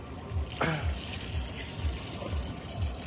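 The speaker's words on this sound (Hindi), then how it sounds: "अब इसमें ग्रेवी के लिए थोड़ा सा हम लोग पानी ऐड करेंगे।" Water is poured into a pan of sizzling, frying mutton to make gravy, a running splash and bubbling over the cooking hiss, moderately close, with a voice speaking briefly in the background.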